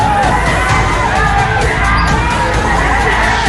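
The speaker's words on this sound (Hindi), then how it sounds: "भीड़ बेकाबू होती गई" An unruly crowd clashing with police, a dense, loud wall of shouting and yelling voices that holds steady without a break, close and chaotic.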